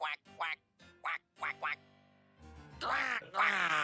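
A cartoon duck in a Gravity Falls animated episode gives a quick run of short nasal quacks, followed by animated voices talking loudly.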